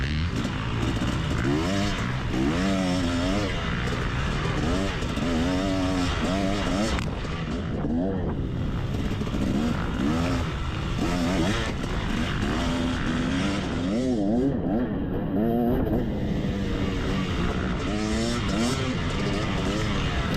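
Off-road motorcycles roar through a cross-country race on a wooded course, engines revving and straining loudly and continuously up close, with rising and falling pitch as the rider accelerates and shifts.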